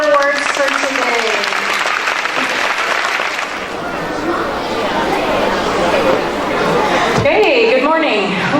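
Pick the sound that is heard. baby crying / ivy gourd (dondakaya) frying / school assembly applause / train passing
school assembly applause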